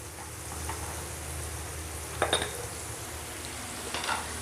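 Paneer cubes toasting in a sizzling oil and butter mixture in a pan for a cashew paneer masala gravy, a soft steady fry hiss with a few brief utensil clinks near the middle and end.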